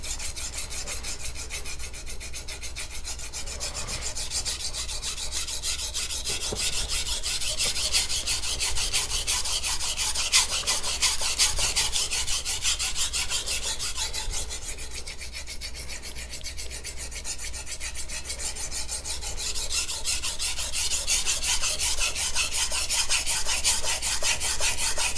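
A MagnaCut steel knife blade is stroked steadily against a sharpening stone, giving a continuous raspy rubbing that runs unbroken and close up, with slight swells in intensity and no voices.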